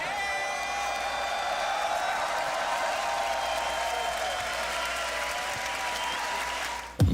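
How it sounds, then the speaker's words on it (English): A crowd applauds and cheers steadily at a Grand Beatbox Battle event, a dense sustained roar of clapping and whoops that ends in a sudden loud thump. "you can keep cheering for Rofu right now, though"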